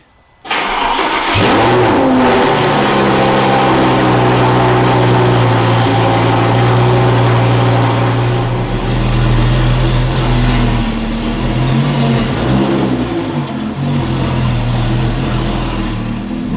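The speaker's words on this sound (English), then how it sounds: "Now, 2-week cold start on my X-Pipe wrecked Lamborghini." A crash-damaged Lamborghini Gallardo with an X-pipe exhaust cold-starts after sitting two weeks, firing up loudly with a sharp bark and then settling into a steady, rumbling high idle with slight rev swells, close and alone.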